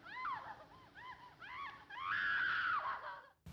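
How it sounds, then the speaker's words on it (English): A woman's screams ring out in a scene from Citizen Kane, a series of rising, wavering cries that build into one long sustained wail before cutting off abruptly. "a woman can be heard screaming in the background"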